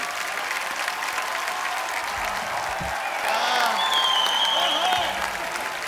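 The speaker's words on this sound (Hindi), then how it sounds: "तालियां जोरदार होनी चाहिए जरा।" Sustained, dense applause from a TV comedy show's studio audience fills the clip, with a host talking over it and some cheering swells midway.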